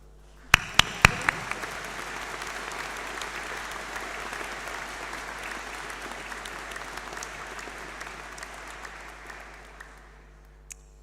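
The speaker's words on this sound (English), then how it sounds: "could I please ask for you all to do a round of applause to thank those people" An audience at a graduation ceremony gives a round of applause, a dense steady clapping that fills the hall for about eleven seconds. A few sharp, close claps stand out at the start, and the sound thins slightly near the end.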